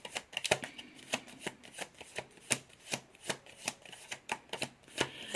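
Oracle cards are shuffled during a card reading, a rapid, steady run of close, crisp riffling slaps and flicks with no voices.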